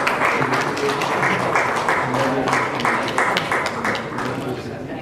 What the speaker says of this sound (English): A round of applause for Dr. Sangeeta Verma.